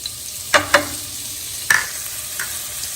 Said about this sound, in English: Just let that get sizzling away there.